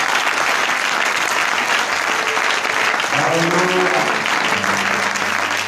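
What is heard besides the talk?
applause for a family in church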